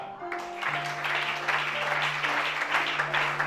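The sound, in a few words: audience applauding for Shana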